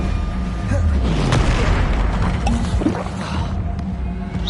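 Bombarda blast spell in Hogwarts Legacy, a heavy booming explosion with a rumbling, splashy tail amid ongoing combat noise, with a voice calling out over it.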